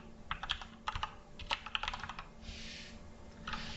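Close-up computer keyboard typing a short project name in a console app, bursts of quick key taps followed by a few heavier strokes, no talking.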